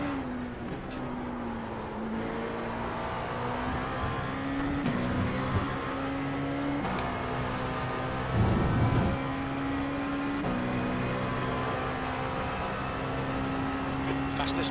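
A sustained engine drone from an LMP2 prototype race car in a racing video game, its pitch holding steady with brief shifts and dips, loud and continuous throughout under a faint background layer.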